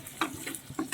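Food frying in a home kitchen pan alongside a simmering curry, with short bursts of sizzle and stirring scrapes recurring every few tenths of a second at moderate level.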